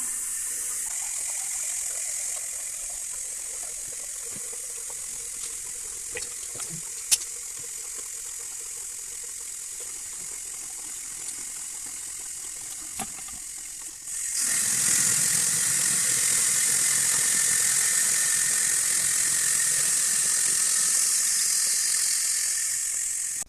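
Toilet cistern refilling with water after a syphon repair: a steady hiss of inflowing water that turns into a louder, fuller rush about two-thirds of the way through, with no talking.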